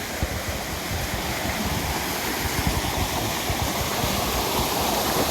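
Cool stream water flowing and splashing near Vang Vieng, a loud, steady rushing wash with no pauses, close by and heard on its own.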